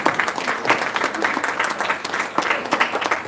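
An audience claps together at an honoring ceremony for Jamaican guidance counselors, a steady patter of many hands with a few brighter swells, filling the room for a few seconds with no talk over it.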